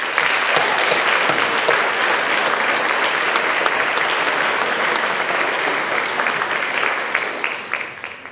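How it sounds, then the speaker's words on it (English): Graduates and guests at an honors scholarship awards ceremony give a long round of applause for families, a dense wash of clapping with some sharper individual claps, gradually tapering off toward the end. "please join me in giving a round of applause to your families"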